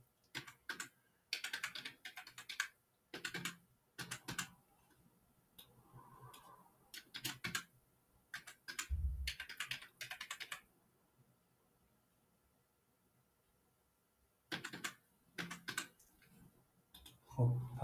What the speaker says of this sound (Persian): خب کلا دارم با فارسی تایپ میکنم.